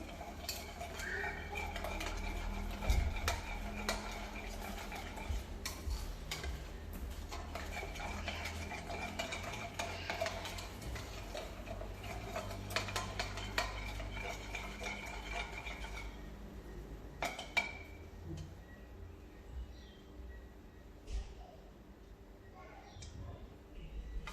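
Bread dough being mixed with yeast in a bowl for a beginner's loaf, giving steady clinking and scraping of a utensil against the bowl that thins out and goes quieter toward the end.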